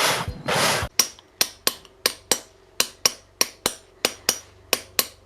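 A sculptor chips at a debarked wooden log with a chisel, giving about fourteen sharp, evenly spaced strikes up close after a short rasping scrape.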